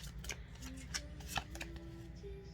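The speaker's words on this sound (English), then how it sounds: "I am going to shuffle the cards" Tarot cards being shuffled by hand, a quiet close series of soft riffling and slapping flicks in irregular rhythm over a low background hum.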